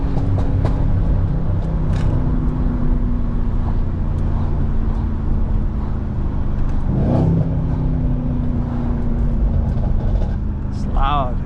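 A Mercedes-AMG C63 engine drones steadily with a couple of quick revs rising in pitch, mixed with people talking and cabin noise.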